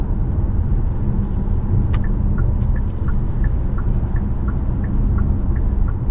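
Steady, loud wind and road noise inside the cabin of a 2024 Hyundai Santa Cruz SEL AWD at speed, a constant broadband rumble with a faint repeating chirp over it.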